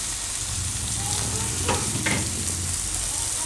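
Fenugreek leaves and fresh coriander sizzle steadily in a hot pan while being stirred, a close, constant frying hiss with a few soft scrapes and no talking.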